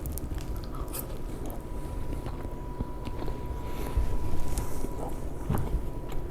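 Close, wet chewing of cheesy baked chicken topped with tomatoes, irregular soft bites and mastication sounds with no talking.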